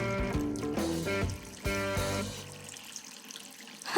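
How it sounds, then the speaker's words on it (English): A water tap is left running in a Fixies cartoon: a steady stream of water pours into a sink, with tonal, somewhat musical ringing that fades toward the end. "I must have left it running when I needed some water for my plants."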